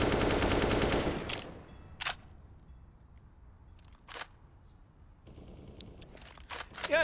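Gunfire in the video game Counter-Strike on the Overpass map during a professional esports match, with a dense loud burst at the start followed by several sharp isolated shots spaced apart over a quieter background.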